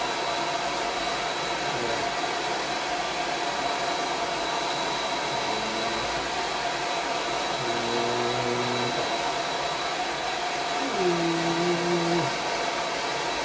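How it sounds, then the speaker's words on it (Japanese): Hair dryer blowing steadily from above onto hair while styling a center-part cut, a continuous broadband whoosh with a motor hum and shifting tones as the dryer is moved. "で、必ずドライヤーはもう上から当てましょう。"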